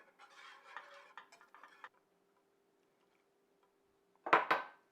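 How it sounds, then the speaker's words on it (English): Stirring grated Parmigiano Reggiano cheese into a sauce in a pot for Greek pastitsio: a run of scraping, clinking spoon strokes against the pot, then a pause and a short, louder pair of close knocks at the end. "I just want to continue stirring this until the cheese is fully melted"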